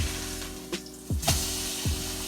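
Ribeye steak searing in a hot pan just after being flipped, a soft steady sizzle with a few brief sharp hisses and clatters, fairly quiet and without talk.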